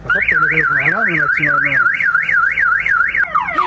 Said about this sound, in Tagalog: Yung alarm niya ang ingay.